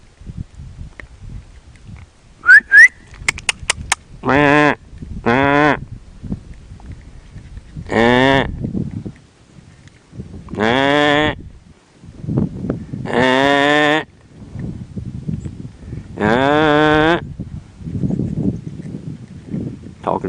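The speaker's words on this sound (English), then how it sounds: "Talking sheep." Several long, wavering bleats of bighorn sheep sound at intervals, close and fairly loud, with footsteps and rustling between them.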